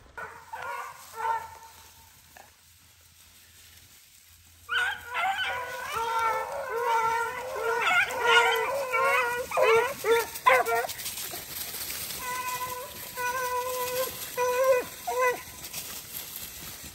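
Beagles bay and yelp in repeated bursts at a moderate distance while chasing swamp rabbits, a chorus of baying that rises and falls, with a quiet gap early on.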